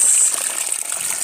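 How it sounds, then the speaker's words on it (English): A clean river flows in a steady, dense rushing wash of water, close and loud throughout with no pauses. "This the river is coming from up there, and today's water is very clean"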